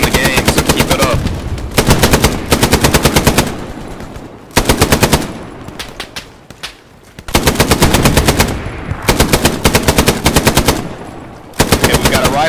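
A machine gun in the World War II shooter Hell Let Loose fires loud, close, rapid bursts, each a few seconds long, separated by brief pauses that carry faint background noise.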